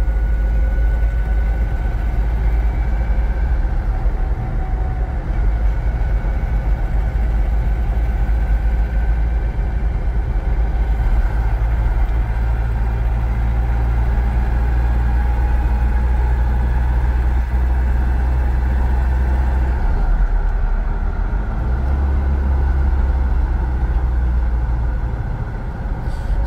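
Toyota Hilux SR5 pickup on the move in fifth gear, a steady low engine drone with a faint gearbox whine running continuously, no talking, the level dipping briefly around the twentieth second.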